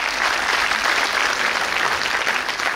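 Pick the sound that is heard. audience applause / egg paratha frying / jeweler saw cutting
audience applause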